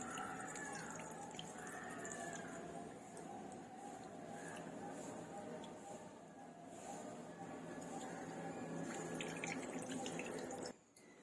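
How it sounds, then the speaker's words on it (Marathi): Water drips from a tied cloth bundle of hung curd being drained for shrikhand, a faint, quiet patter of drops over low background hiss, heard alone. "आपण पोटली बांधायची त्याची गाड बांधून ठेवायची आणि जेवढं निघेल तेवढं पाणी अगोदर काढून टाकायचं"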